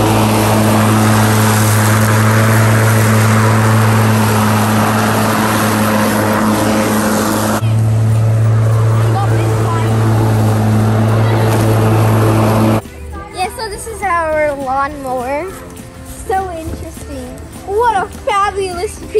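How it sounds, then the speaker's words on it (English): A lawn mower cuts overgrown grass in a home garden, its engine droning steadily and loudly nearby for about thirteen seconds before dropping away as someone starts talking. "that's the sound of my dad mowing the lawn because our grass is kind of getting a little grown"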